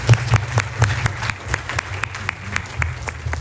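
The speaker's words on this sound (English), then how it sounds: "Give him a round of applause, everyone" People at an outdoor Ramayana event in the park applaud, giving sparse, distinct handclaps in an uneven rhythm, moderately close, with a low hum underneath and no talking.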